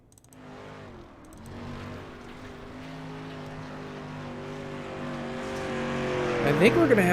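Race cars roar around a dirt track in a Dirt to Daytona Thunder Series qualifying session, a steady layered engine drone building louder toward the end as cars pass close, with an announcer talking over it.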